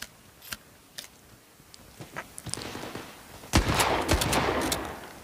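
Shotgun blasts in the mobile shooter game Battle Prime, a handful of sharp bursts spaced across the clip, growing into a dense, louder flurry of gunfire and impacts near the end, with no talking.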